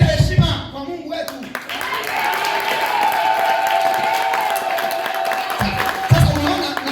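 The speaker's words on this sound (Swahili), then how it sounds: "Nipigie makofi haraka." A congregation clapping in a church revival service, a sustained wash of hand claps at moderate loudness, with a preacher's voice speaking at the start and end.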